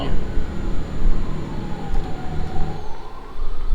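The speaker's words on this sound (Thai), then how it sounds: "รถพยาบาลวิ่งอีกแล้ว" Ambulance siren in Euro Truck Simulator 2 wailing with a slow rising and falling tone over steady truck engine rumble, continuous and fairly loud, with people talking.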